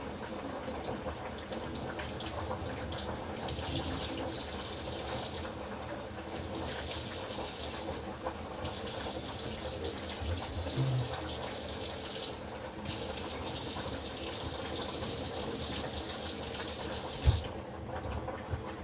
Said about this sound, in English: or just try and wash this